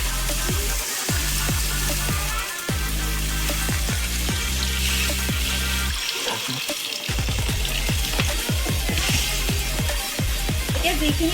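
Water poured into a hot pan of okra cooking with softened tomatoes, a loud burst of sizzling and bubbling from close by that keeps rumbling over the whole stretch, with speech heard under it.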